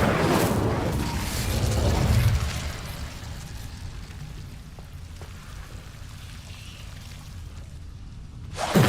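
Incendio fire spell cast in the video game Hogwarts Legacy, a loud crackling, roaring burst of flame that swells for a couple of seconds and then fades into quieter ambience, with a brief sharp hit near the end.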